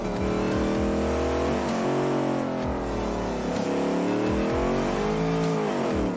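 Simulated car engine in the BeamNG driving game revving hard and loud, with repeated gear shifts breaking the rising engine tone, continuous throughout.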